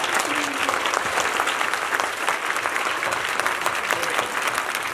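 A crowd at a rural cultural program at a public school in Agra claps loudly and steadily, a dense, unbroken wash of applause close to the microphone throughout, with no talking over it.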